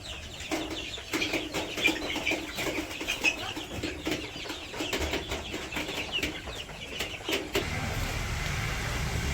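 Chickens cluck in a steady, busy chatter nearby, with sharp clicks scattered throughout before a low rumble takes over near the end.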